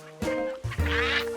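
Cartoon ducks quack on a river, several nasal honking calls in quick succession, close and clear over light background music.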